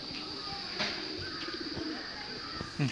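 Pigeons coo softly in the open grounds of the Kalika temple in Baglung, a few low throaty calls over a steady outdoor hum, with no talking.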